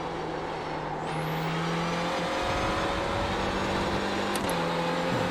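Clio Cup race car in iRacing at Rudskogen, a steady engine drone throughout with gear-change steps and a rising whine as power comes on, loud and continuous without talk.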